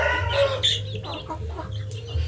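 A quarrelsome brooding hen fighting over a laying nest clucks repeatedly, close by, alongside other fowl calls and a low steady background hum.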